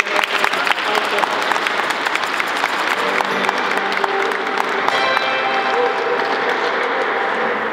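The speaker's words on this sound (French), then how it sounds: "Applaudissez pour notre frère Alphonse." An Easter church congregation claps steadily and loudly, a dense continuous wash of applause lasting the whole stretch with no voices over it.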